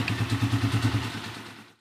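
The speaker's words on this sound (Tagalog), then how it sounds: "Smooth na yung makina ng motor ni boss." A freshly overhauled motorcycle engine runs steadily at close range with a low, even pulsing throb and light mechanical clatter, then cuts off abruptly near the end, leaving near silence.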